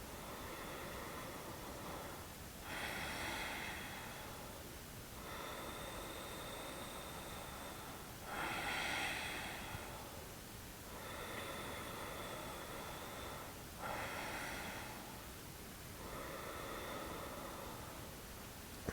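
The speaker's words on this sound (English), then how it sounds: "4 rounds of breath here" Slow, deep breaths during a gentle yoga session rise and fall in about four long, even cycles, each a soft, airy swell that fades back into quiet hiss.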